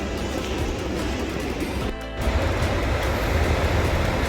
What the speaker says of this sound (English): as you can hear the waves, I'm back at the coast